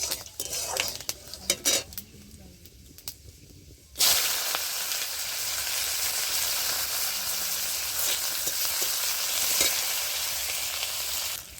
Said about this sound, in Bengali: ফোড়নটা আমার ভাজা হয়ে গেছে, এবার আমি পেঁয়াজ দিয়ে দিচ্ছি।